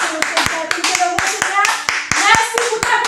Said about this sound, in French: je vous invite à l'applaudir avec moi pour l'accueillir